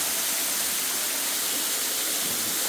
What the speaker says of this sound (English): I'm under the waterfall here at Buttermilk Falls.